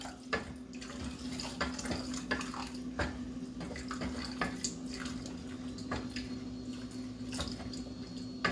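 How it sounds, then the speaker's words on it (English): Hot water pours into a pan for a sauce that already holds butter, a soft continuous trickle with faint clinks and a low steady hum, quiet and close. "I'm gonna use just some hot water I'm using."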